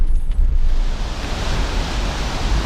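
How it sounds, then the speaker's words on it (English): Waterfall at a mountain campground, a loud, continuous broadband roar of rushing water filling the whole clip with no voices. "Beautiful waterfall, obviously."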